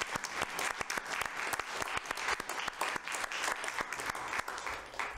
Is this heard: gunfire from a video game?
no